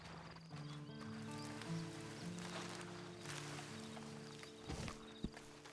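Horse in the Red Dead Online video game prologue, hooves clip-clopping with a whinny and snorts over a bed of game music, close and moderately loud.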